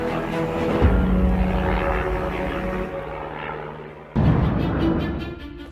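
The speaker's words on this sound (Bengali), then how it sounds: "নিজেদের কারিগরি দক্ষতায় তৈরি করা হয়েছে দুটি আধুনিক বেসিক ট্রেনার বিমান" A Bangladesh Air Force basic trainer aircraft, a propeller plane, drones loudly and close with a steady engine roar, changing pitch as it passes, then cutting abruptly to another pass.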